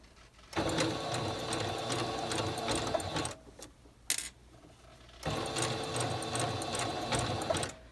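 A sewing machine runs a blind hem stitch on fabric in two steady whirring bursts with a rapid mechanical needle rhythm, close and fairly quiet, separated by a short pause with a faint click.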